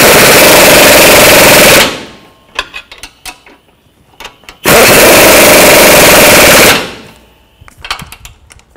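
A pneumatic impact wrench snugging control arm bolts and nuts on a 2007-16 GMC Acadia, firing in two long loud rattling bursts of about two seconds each, with clanks and tool handling between them.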